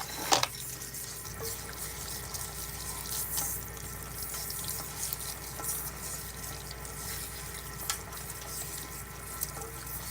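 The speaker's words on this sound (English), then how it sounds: "I'm gonna go ahead and rinse out the remainder of the bowl" Steady running water from a salon tap rinses out a hair-color bowl, a continuous broadband wash with a few small clinks and splashes, close by and moderately quiet throughout.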